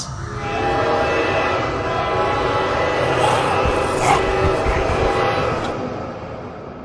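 A rumbling train moves in the Indian Bikes Driving 3D video game, with steady low rail noise, scattered horn-like tones and mechanical clatter running continuously at a loud level, under faint voices.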